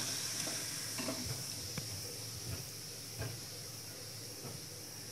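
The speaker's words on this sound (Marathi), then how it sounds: "खरपूस भाजून घेऊया आपण." Sabudana vada fry in hot oil with a steady, close hiss and crackle, broken now and then by faint soft taps from the pan.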